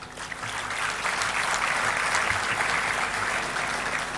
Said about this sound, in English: A big round of applause for the VNIT community.